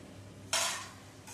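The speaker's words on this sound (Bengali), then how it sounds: "বিউলির ডালের বড়িগুলো ভাজা হয়ে গেছে বড়িগুলো তুলে নেব" Fried urad dal badi being lifted out of hot oil with a slotted spoon, producing a sudden bright sizzling rush that fades over about half a second, with a quieter sizzle returning at the end.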